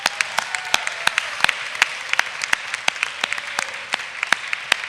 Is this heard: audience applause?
yes